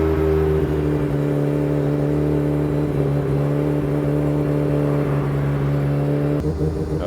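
A Mazda RX-7 FD with a peripherally ported rotary engine and a large HKS turbo idles loud and close, a steady buzzing drone with a slight lift in pitch near the end.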